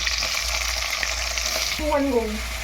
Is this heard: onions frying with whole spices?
yes